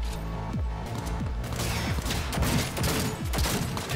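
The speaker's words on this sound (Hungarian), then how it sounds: "Egy lövés volt, véletlen volt." Rapid bursts of gunfire from the video game Cyberpunk 2077, dense overlapping shots with ringing impacts and echoing tails in a loud, continuous firefight.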